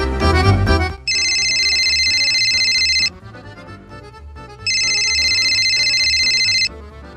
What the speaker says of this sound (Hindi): तेरे फोन पे फोन आ रहा